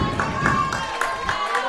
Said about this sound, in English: And Alvarez getting some support and some cheers once again from this crowd